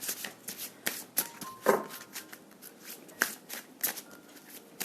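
Tarot cards are shuffled by hand for a card reading, giving a close burst of papery riffles and sharp flicks with uneven pulses and brief snaps, no voices.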